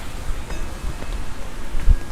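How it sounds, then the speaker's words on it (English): Strong wind gusts across Delray Beach in Florida as Hurricane Nicole approaches, a loud, continuous roaring rush with buffeting against the microphone and a brief louder thump near the end. "it's really gusting now"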